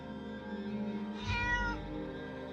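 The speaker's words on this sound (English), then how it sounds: "Don't mind my cat." A house cat lets out one drawn-out meow close by, rising over a steady tonal background hum with no talking.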